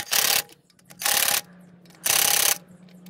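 A torque wrench set to 100 newton-metres ratchets a bolt tight while fitting a set of MRL parts, three loud bursts of rapid clicking, each about half a second long, with brief pauses between them.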